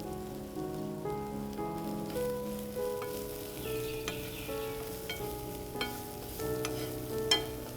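Spices and garlic sizzling quietly in a pan, a soft steady crackle with small pops and occasional utensil clinks, no voices over it.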